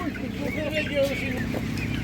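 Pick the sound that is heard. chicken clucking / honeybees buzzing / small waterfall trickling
chicken clucking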